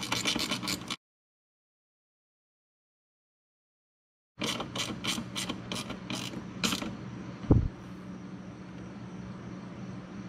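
A ratchet wrench tightens nuts and bolts on a jet ski jet pump in short bursts of rapid clicking, broken by a long silent gap and a single louder knock, close and clear with no talk.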